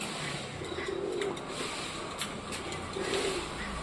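Madras breed pigeons coo in soft, low, rolling bursts, one near the start and another toward the end, over a steady noisy outdoor background.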